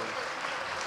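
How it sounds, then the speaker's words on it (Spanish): A brief moment of dense, continuous applause from a large audience at a legislative briefing session, loud and evenly sustained. "agradezco los aplausos que también me califican"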